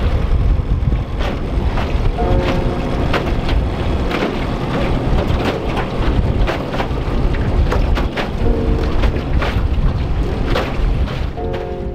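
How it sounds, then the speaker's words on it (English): Strong wind roars around a small boat on open water near a point off Mackinac Island, buffeting loudly and continuously, with water sloshing against the hull and occasional knocks. "It's going to be really windy coming around the point here."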